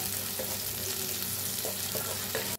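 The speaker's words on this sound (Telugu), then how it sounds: "ఆనియన్స్ బాగా ఫ్రై అయ్యేంత వరకు మనము ఫ్రై చేసుకోవాలి." Thinly sliced onions frying in hot oil in a pan, a continuous close sizzle with occasional stirring scrapes, no voices.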